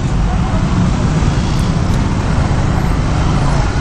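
Steady, dense road noise from slow traffic in a jam, heard from a 2017 Honda CB150R motorcycle, with a loud, constant rumble and wind roar that never lets up.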